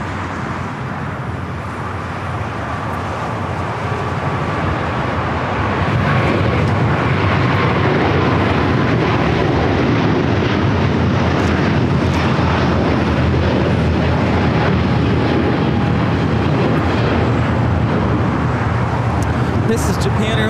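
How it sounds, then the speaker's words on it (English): Japan Airlines Airbus A350-1000 on its takeoff roll at LAX, bound for Tokyo Haneda: a loud, steady broadband jet roar that builds over the first few seconds and then holds strong and sustained, with a voice speaking over it. "This is Japan Airlines Flight 15 taking off to Tokyo Haneda on the A350-1000."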